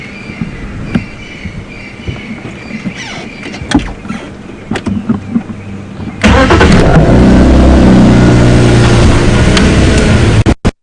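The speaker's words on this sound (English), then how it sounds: "I just want to give him a rev quickly." A safari vehicle on a morning game drive at Djuma Game Reserve idles with some light clicks and knocks. Then the engine roars into a loud, sustained rev that holds steady for about four seconds before cutting off abruptly.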